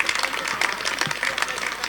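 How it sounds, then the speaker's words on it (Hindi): Applause from an audience for a poet at a Hindi comedy poetry event, a short, dense burst of clapping heard close and fairly loud. "एक बार जोरदार तालियां धासु खैरवी जी के लिए"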